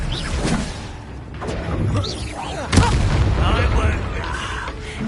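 An Expelliarmus spell cast in Hogwarts Legacy, a sharp booming crack with a whoosh that cuts through battle noise, while voices talk in the background.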